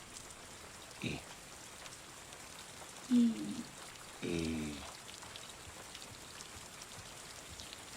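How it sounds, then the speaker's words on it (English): Rain falling in the TV series Shogun, a steady soft patter across the whole clip, with a few short vocal sounds and a brief low voice over it. "Rain."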